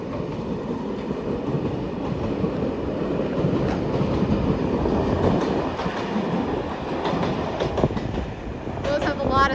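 Steady rumble of a passenger train travelling to Grenoble, with continuous rolling wheel noise and faint clicking over the rails heard from inside the carriage, holding at a moderate level throughout.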